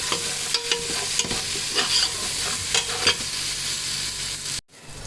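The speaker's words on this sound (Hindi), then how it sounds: "बस इसको अच्छे से ज़रा फ्राई करते हैं और फिर डालते हैं चिकन" Whole spices and chicken frying in a pan give a loud, continuous sizzle, with several sharp clanks and scrapes from stirring before a brief cutoff near the end.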